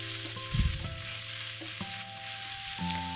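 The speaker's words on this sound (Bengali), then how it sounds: "3 থেকে 4 মিনিটের মতো আমি পাস্তাগুলো ভালোভাবে নাড়ব।" Egg pasta with scrambled egg sizzling and frying in a pan, stirred steadily, with a steady close hiss and a louder scrape and clatter of the spoon early on, no voices.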